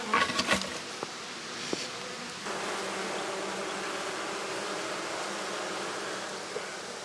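A steady drone of honeybees buzzing close by, continuous and moderately loud, with a few brief knocks near the start.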